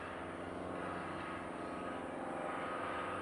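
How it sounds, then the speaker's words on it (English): Helicopters flying over an airfield on a busy sunny day, a steady broad rotor and engine rumble filling the background, constant and moderately loud without a break. "Sorry about the sound of helicopters flying over, there's a lot of them today"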